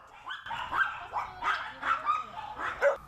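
Several dogs bark and yip repeatedly at an outdoor dog playground terrace at an animal shelter, a lively overlapping series of sharp barks at moderate distance with brief whimpers between them.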